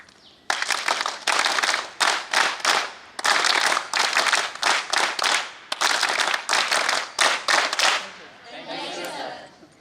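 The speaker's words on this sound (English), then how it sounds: "Clap." Sharp bursts of clapping ring out from a crowd at a Periyar University event in Salem, coming in rhythmic clusters of claps with brief gaps, then fading into a softer patter.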